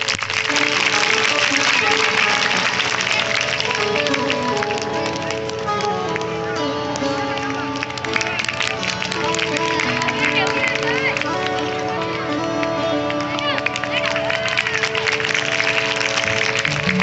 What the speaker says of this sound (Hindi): तालियां बजा के चले, बड़ा उत्तम